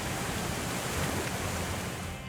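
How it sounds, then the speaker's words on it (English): Churning, turbulent water rushing in to fill a lock on the Welland Canal, a loud, dense roar that holds steady throughout with no voices. "It takes about 12 minutes to fill, and that means churning water and turbulence."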